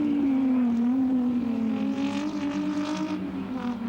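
A touring race car at Winton raceway in 1985 drives through, its engine a steady sustained drone with a rising, shifting pitch, loud and continuous throughout, with no voices over it.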